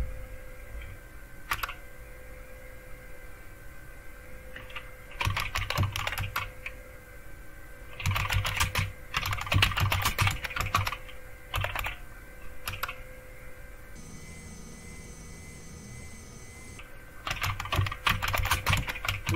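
Keys clatter on a computer keyboard as commands are typed into a Fedora 37 Kinoite Linux terminal, quiet close bursts of rapid clicks separated by pauses, with a faint steady hum underneath.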